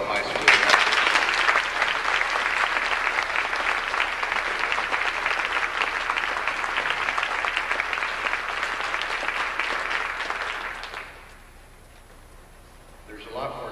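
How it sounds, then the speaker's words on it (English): Audience applause for the faculty at Belleville High School's 1989 awards ceremony, a loud, sustained burst of clapping in a large hall that holds steady for about ten seconds, then drops away sharply into quiet. "I think we ought to give a round of applause to the faculty at Belleville High School."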